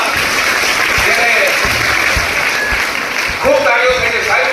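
Audience applause at a Gujarati dayro honouring Haji Ramakdu, a dholak player, as steady dense clapping throughout with a voice speaking over it and a brief swell near the end.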